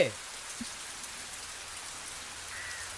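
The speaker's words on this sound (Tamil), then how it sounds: "மல்லி, என்னம்மா இது மழையில் நனைஞ்சுக்கிட்டு உடம்புக்கு ஏதாவது ஆகிட போதுமா?" Rain falling outdoors, a faint, steady hiss in the background with a soft thump near the start.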